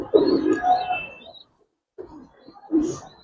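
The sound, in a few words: pigeon cooing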